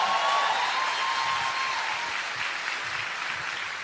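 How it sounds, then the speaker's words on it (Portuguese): Steady applause from a church audience fills the hall for the whole stretch, dense and even, slowly easing a little toward the end, with a faint tone running beneath the early clapping. "Dá uma salva de palmas para Jesus."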